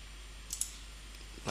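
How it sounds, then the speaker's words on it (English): A couple of faint, quick mouse clicks in a quiet room as the save button is pressed in Photoshop CS6, with a soft breathy sound near the end. "and I'll click save"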